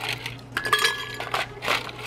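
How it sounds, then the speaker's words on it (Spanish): Ice cubes tumble into a blender jar for a mango margarita, a short burst of hard clinking and rattling against glass, close and fairly loud with no talk. "vertimos lo que es el hielo"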